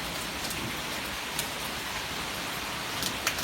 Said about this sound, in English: I see more rain this way. This is coming our way.